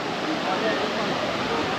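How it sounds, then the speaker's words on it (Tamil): Water pours down hard at the Courtallam falls, a dense, loud, unbroken roar of rushing spray that fills the whole short stretch, with a voice faintly present under it. "தண்ணி செமையாக வந்துட்டு இருக்கு."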